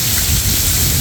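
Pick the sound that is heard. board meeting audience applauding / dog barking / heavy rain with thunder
heavy rain with thunder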